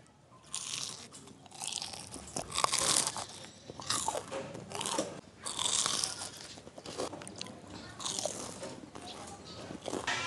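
Someone eating crunchy fried tofu snacks close up, repeated loud crisp bites and crunching chews in an uneven rhythm across the whole stretch.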